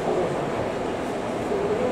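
The Tobu Sakura Train, a three-car limited express, arrives at Asakusa station with a steady rolling rumble and faint brake squeal, moderately loud and close, with no voices.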